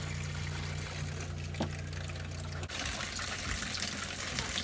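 Water runs steadily from a newly replaced RV tub faucet and shower, a continuous close rushing stream that shifts in tone partway through, with no talking.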